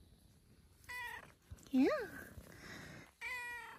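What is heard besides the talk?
cat meowing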